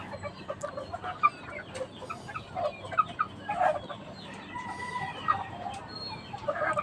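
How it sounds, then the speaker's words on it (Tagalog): Young Rhode Island Red chickens, about 45 days old, cluck and chatter softly in scattered short calls over a low background murmur. "45 days si Rhode Island Red, marunong na magkakak guys."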